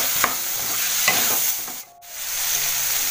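Soaked dried bombil fish and potato sauté in a pan with spice masala, a steady bright sizzle with soft stirring scrapes, briefly dipping quiet before the frying hiss resumes.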